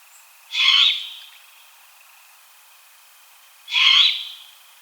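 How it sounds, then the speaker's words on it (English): Two harsh, screechy hissing begging calls from a juvenile great horned owl, each about half a second long, separated by a few seconds of quiet. "The begging calls of juvenile great horned owls are very screechy."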